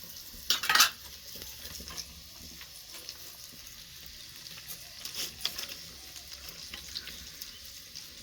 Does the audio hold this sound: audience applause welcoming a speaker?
no